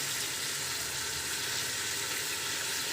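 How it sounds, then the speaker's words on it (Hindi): Ginger garlic paste frying with chicken in a pan, a steady dense sizzle with light stirring throughout, close and even, no voices. "ठीक है, इसके साथ अच्छे से इसको फ्राई कर देंगे"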